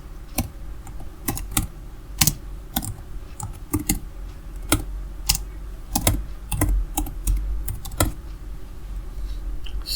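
Python code being typed on a computer keyboard: brisk, irregular bursts of close keystrokes, loud clicks in quick runs and short pauses, with no voices.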